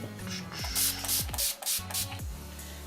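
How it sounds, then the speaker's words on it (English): Several quick, close spritzes of All Nighter setting spray onto a makeup brush, each a short hissing burst mixed with the clicky pump of the nozzle. "I'm gonna spray my brush with All Nighter Setting Spray"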